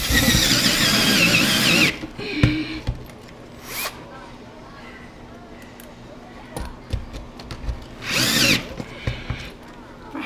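A power drill bores a hole for mouse and keyboard wires, the bit running hot and bottoming out: a loud, close whine for about two seconds, then short bursts later, with someone talking in between.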